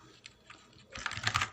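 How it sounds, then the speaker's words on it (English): Fingers tapping a computer keyboard while entering a spreadsheet formula in Google Sheets, a few sparse keystrokes giving way to a quick, close burst of clicks. "you need to type the exact formula that I am typing here"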